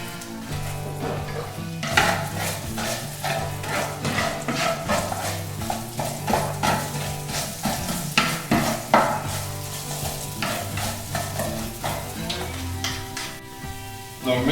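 Ingredients for a Mediterranean chickpea dish browning in a pan, a loud constant sizzle with frequent rhythmic stirring scrapes, close up and without voices.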